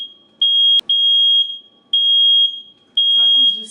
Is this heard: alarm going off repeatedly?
yes